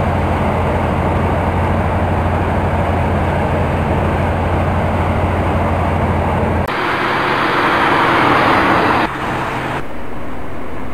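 A National Express East Coast train at Knebworth station platform makes a loud, continuous rumble and rush that shifts in tone partway through, then eases slightly near the end.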